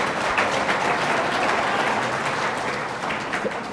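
Audience applause at a panel discussion on Medicare and Social Security, a sustained wash of clapping from a crowd that holds steady and then eases slightly toward the end.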